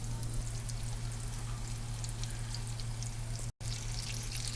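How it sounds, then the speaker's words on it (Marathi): Constant crackling sizzle of mackerel frying in oil on a flat pan, with a low steady hum underneath and a brief dropout near the end. "एक एक करून आपण बांगडा फ्राय करू"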